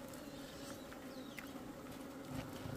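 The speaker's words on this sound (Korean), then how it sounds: "장수 말벌은 계속해서 와요" Steady insect buzzing close by at a hornet trap, a droning hum with occasional louder passes as giant hornets fly around, no voices.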